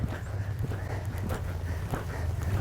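A horse cantering in a jump ring, its hoofbeats a steady rolling rhythm of muffled thuds on footing, close and moderately loud with no talk.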